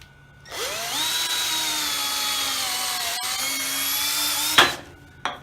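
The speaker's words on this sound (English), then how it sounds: "Always pre-drill hardwood." A 3/8-inch drill bit boring a pilot hole into hardwood, one steady whining run of about four seconds that rises then holds even, close and loud, ending with a short burst as the bit breaks through or stops.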